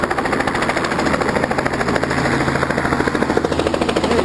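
Strong wind buffets an outdoor microphone in a loud, dense, fluttering rumble that never lets up, with no voice over it.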